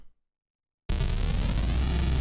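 After a brief silence, a raw, unprocessed Phase Plant synthesizer noise with no effects starts abruptly and hisses on steadily, broadband and loud, with a faint rippling texture.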